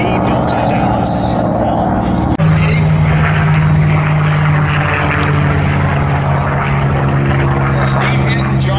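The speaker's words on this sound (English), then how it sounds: "Steve Hinton, John Hinton, and Mark Moody are flying the 3 Mustangs today." Three P-51 Mustang warbirds, a P-51C and P-51Ds, fly at an airshow with a loud, continuous propeller-engine roar that holds steady throughout and deepens into a strong drone partway through, with a voice talking over it.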